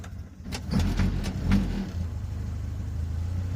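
A Hillman Imp VTR's small engine revs and then settles into a steady running rumble as the car moves in reverse, with a few short clunks near the start.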